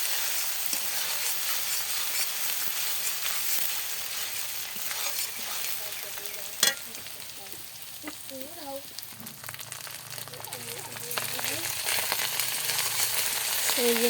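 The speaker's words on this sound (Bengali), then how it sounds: "আর এই পেঁয়াজ রসুন আদা রসুন পেঁয়াজটা দিয়ে দিলাম তেলে। এটা একটু কষিয়ে নেব।" Onion, garlic and ginger fry in hot oil over a clay stove, giving a steady broadband sizzle throughout, with occasional spatula scrapes and a single sharp clank partway through; faint background voices appear toward the end.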